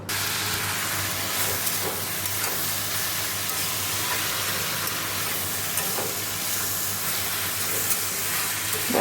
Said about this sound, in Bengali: লাউটা দিয়ে দিয়ে নুন হলুদ মিষ্টি দিয়ে নাড়াচাড়া করছি